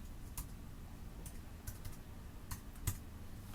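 Quiet computer keyboard typing in short bursts of crisp key clicks, with a few louder taps spaced across a near-silent room, close and faint.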